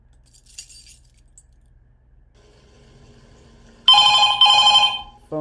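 A telephone rings in the FNaF 2 horror video game, one loud harsh burst of ringing that starts after a few quiet seconds of faint clicks and keeps going almost to the end.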